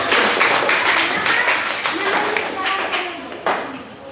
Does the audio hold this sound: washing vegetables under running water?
no